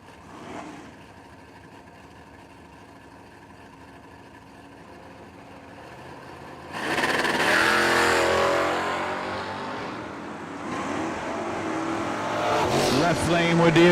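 A drag race on a strip, a Mustang among the cars: quiet idling and murmur at first, then a loud burst of engines launching and roaring down the track, staying strong to the end, with commentary over it.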